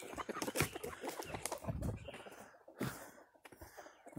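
Backyard chickens clucking and fussing at close range in a coop with a rooster, irregular bursts of clucks and squawks over a busy, rustling background.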